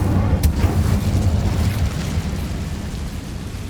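A fiery blast from the Incendio spell in Hogwarts Legacy erupts with a sharp burst, then settles into a loud, sustained roaring rumble that slowly fades over a few seconds.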